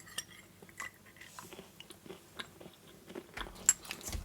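Biting and chewing into a chocolate bar studded with almonds and hazelnuts, close up, with repeated crisp crunches and chewing sounds and no talk.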